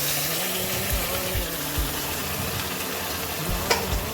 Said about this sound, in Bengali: তারপরে নেড়ে চেড়ে কিছুক্ষণ ধরে পেঁয়াজটা ভেজে তারপর আমি ম্যারিনেট করা মাংসটা দিয়ে দেব।